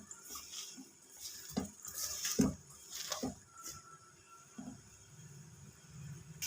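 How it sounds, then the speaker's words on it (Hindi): Soaked moong dal for mongre being washed and squeezed by hand in water, producing soft intermittent splashes, squelches and drips that come in a few close bursts against a quiet kitchen background. "धो के फिर निचोड़ लेती हूँ।"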